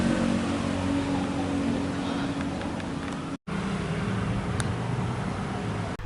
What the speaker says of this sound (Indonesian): Pakai mesin gerinda ini?